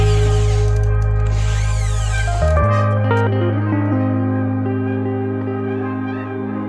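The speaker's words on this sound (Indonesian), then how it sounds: "kita akan lubangi dulu ya dengan bor sampai nanti sekrupnya bisa" Power drill boring screw holes in a plastic motorcycle body cover, a loud steady motor whine that steps down in pitch partway through and then runs on evenly.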